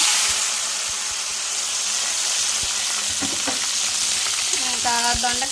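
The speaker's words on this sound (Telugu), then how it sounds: "టమాటా పచ్చిమిర్చి ఉల్లిగడ్డలు కరివేపాకు అయితే బాగా ఫ్రై చేసుకోవాలి" Tomato, green chili, onion and curry leaves frying for ivy gourd curry, a continuous close sizzle and hiss with occasional spatula knocks and a short tonal clatter toward the end.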